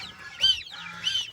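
Geese and chickens calling on a farm, with honks and clucks in two louder bursts over a steady low murmur of flock noise, fairly close.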